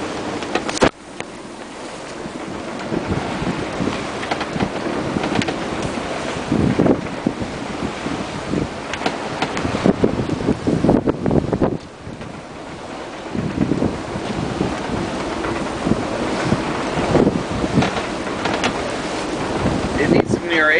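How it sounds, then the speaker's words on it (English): Wind buffets the microphone while waves slosh and break against a sailboat heading to Catalina Island, a loud continuous roar with surging water and gusty rumble. "lots of waves out here today"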